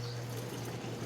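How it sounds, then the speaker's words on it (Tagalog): Water rushes steadily into a Panasonic NA-F70S7HRM2 7 kg top-load automatic washing machine, a continuous close hiss and gush over a low, constant hum from the machine. "At meron ng tubig na dumadaloy."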